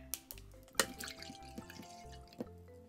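About 200 ml of water poured for a bubble mixture made with washing-up liquid, heard as a quiet sequence of drips, splashes and trickles with a few sharper clinks, close and alone.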